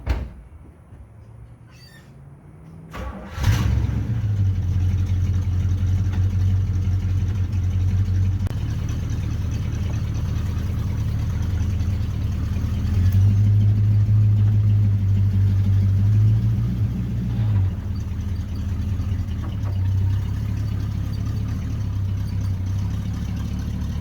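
A 1980 Chevrolet C30 dually truck starts up with a sharp burst, then rumbles steadily and close as it moves slowly around a yard, with the engine swelling briefly midway.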